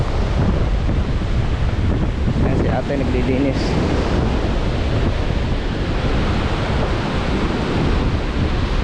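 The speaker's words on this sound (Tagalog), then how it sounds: "Lakas ng hangin, grabe." Strong wind roars steadily across a Boracay beach, buffeting the microphone with loud, unbroken rumbling and surf-like hiss throughout, while a person speaks briefly underneath.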